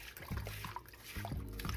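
Water pours and trickles steadily while store-bought greens are washed, a continuous close splashing wash with no voices.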